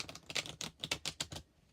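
Tarot cards riffled and shuffled by hand, a quick run of about ten crisp papery flutters in close succession, near and fairly loud with no talking.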